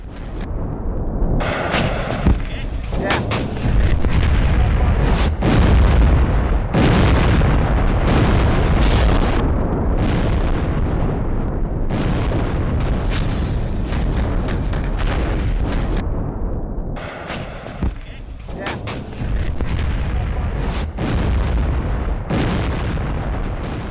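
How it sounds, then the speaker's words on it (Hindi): A Russian tank blows up on a landmine near Bakhmut, with sustained heavy blasts and rumbling booms that run loud and dense almost without pause. "माइन के धमाके में रूसी टैंक के पर खच्चे उड़ गए"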